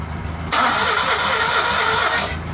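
A Citroën 2CV engine cranks over with a rapid rhythmic churning, loud and close, straining without catching on a low battery.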